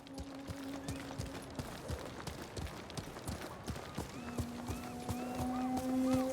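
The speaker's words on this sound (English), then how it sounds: "You're a good horse, Nobu." Horse hooves clip-clopping at a steady, quick rhythm in Ghost of Tsushima, moderately close and fairly quiet, with game music tones and a faint whinny in the background and no talk.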